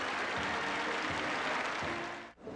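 Large crowd applauding at the opening game of Korean professional baseball, a dense, steady roar of clapping that holds throughout and cuts off sharply near the end.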